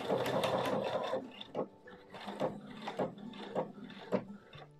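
A domestic sewing machine stitches a backstitch on fabric near the edge of a wrap skirt, with a burst of rapid stitching followed by short stop-start runs, close and fairly quiet.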